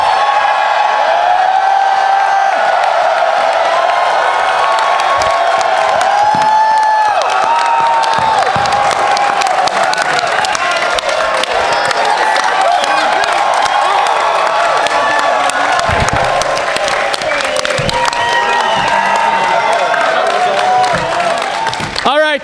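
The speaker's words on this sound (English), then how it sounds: "Just get you guys like saying hi and waving and cheering." A convention panel audience at Power Morphicon 2018 cheers, whoops and applauds loudly for a sustained stretch, a dense crowd roar with scattered shouts and clapping and some voices mixed in.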